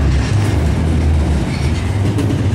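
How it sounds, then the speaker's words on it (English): A CSX Q491 manifest freight train rolling past on the New Charlotte to Waycross run at Raleigh Street, a loud close rumble of wheels and cars with low droning throughout. "thank goodness this train was not long"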